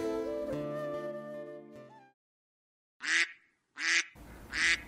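A cartoon duck quacks three times in short, evenly spaced bursts after a brief musical passage and a moment of silence.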